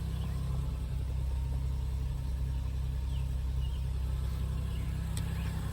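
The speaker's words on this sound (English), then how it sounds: "you hear the engine just kicked on." A hybrid car's engine runs at a steady idle after kicking on, giving a low continuous rumble and hum, fairly faint and with no speech over it.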